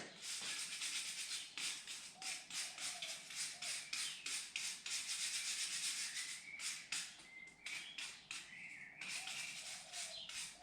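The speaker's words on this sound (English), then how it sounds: "So if it's a bit built up, you use a wire brush on it." Wire brush scrubbing built-up kamado smoker grates, quick rhythmic rasping strokes repeated in bursts, close and fairly quiet, with no talk.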